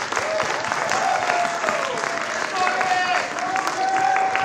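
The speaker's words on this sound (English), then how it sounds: "One final round of applause for Tommy." Applause for a performer named Tommy at an electronic music concert at the College of San Mateo, a sustained crowd clapping with a few cheers, while a held electronic tone lingers faintly underneath.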